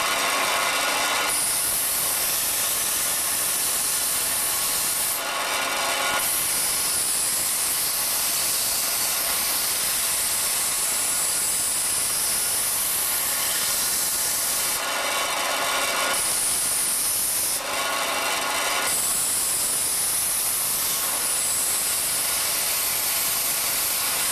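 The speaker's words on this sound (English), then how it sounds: "We've got a linisher here" A linisher belt sander shapes a wooden former for a Drifter tail plane, giving a steady, loud abrasive hiss and rasp that runs throughout, with brief changes in tone as the wood is pressed to the belt.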